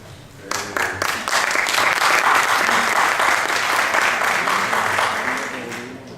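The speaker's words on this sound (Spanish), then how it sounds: "Esto del aplauso es para todos, ¿vale?" Audience applause at a 2009 conference session on sectoral trade and hospitality, a dense, loud burst of many hands clapping that swells quickly, holds steady for several seconds and then begins to taper off.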